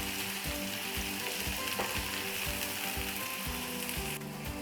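Onion and garlic fry in a pan ahead of the chicken, giving a dense, continuous sizzle with regular stirring strokes scraping the pan at a steady beat, close and loud throughout.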